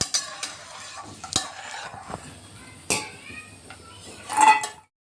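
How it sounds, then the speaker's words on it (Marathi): Peanuts fry in hot oil in a pan, with a light sizzle under repeated scrapes and clinks of a metal spoon stirring them, then a louder final stir before the sound cuts off. "तेल गरम झालेलं आहे. आता आपण शेंगदाणे तळून घेऊ."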